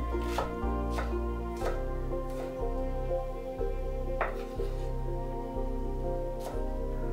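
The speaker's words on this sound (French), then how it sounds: "Commençons par couper en fines rondelles la branche de cébette" A knife slices a spring onion into thin rounds on a cutting board, giving a steady series of crisp, evenly spaced chops, close and clear with no talking.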